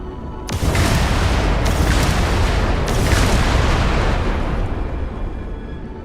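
Spaceship guns in Starfield fire a loud, sustained barrage of booming blasts, several heavy thuds rolling together into a continuous roar before fading out at the end.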